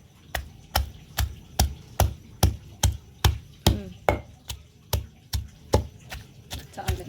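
Gongura chutney ingredients pounded by hand in a mortar with steady, evenly spaced heavy thuds, about two per second, close and loud throughout.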